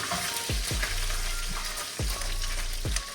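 Bacon strips fry in a pan with a dense, constant sizzle and crackle, broken by a few low thuds and scrapes as the pieces are turned. No one speaks.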